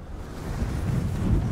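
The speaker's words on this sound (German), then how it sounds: "Das bläst auch, obwohl wir hier in der Stadt sind und eigentlich ziemlich windgeschützt." Strong winter wind blows outdoors by a small city ditch, a close, low, rumbling buffet against the microphone that grows steadily stronger.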